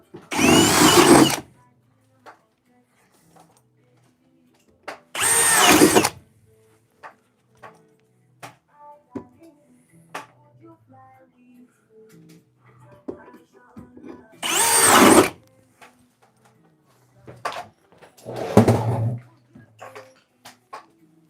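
Four loud bursts of a power drill in a basement during electrical wiring work, each a second or so long, spaced apart with quiet gaps and faint handling noises between them.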